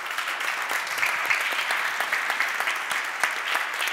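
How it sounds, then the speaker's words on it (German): An audience at a university keynote and certificate ceremony breaks into sustained applause, a bright, even crackle of many hands clapping that holds steady for several seconds without speech. "auch die digital Zugeschalteten haben einen Applaus jetzt mal verdient"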